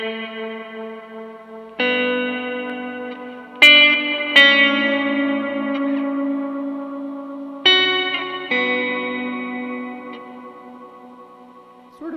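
Electric guitar played through a delay pedal in an effects loop, with sustained chords struck several times, each ringing out with trailing echoes and shimmering, chorus-like repeats, alone with no talk.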